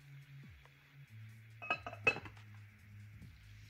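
Two heart-shaped trinket dishes clink together as they are fitted into one closed heart, giving two sharp, close ringing taps a moment apart over quiet room tone.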